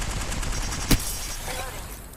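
Video game gunfire, a single sharp shot standing out near the middle over a dense bed of game noise and background clatter.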